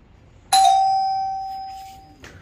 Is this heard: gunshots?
no